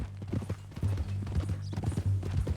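Horse hooves clip-clopping in the video game Red Dead Redemption 2, a loud, steady rhythm of close hoof beats over a low engine-like hum.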